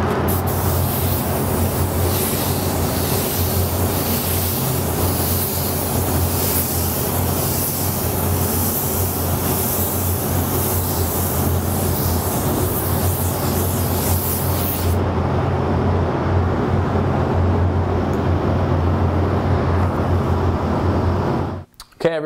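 A spray gun lays gold metallic base coat onto panels in a paint booth at slightly lowered air pressure, giving a steady close hiss of air and atomized paint that runs unbroken for about twenty seconds before cutting off.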